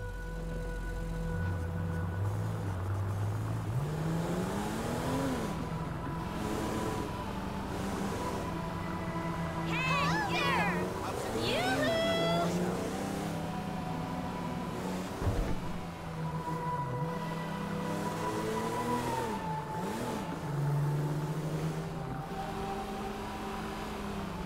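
Car engine in the GTA 5 video game, revving and shifting through rising and falling pitch as the car is driven around a city block, steady and fairly close, with a brief dip midway.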